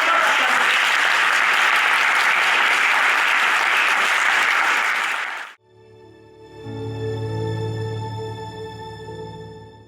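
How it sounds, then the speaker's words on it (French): A church congregation bursts into loud, sustained applause for about five seconds, then it cuts off abruptly and music takes over. "Acclame très fort."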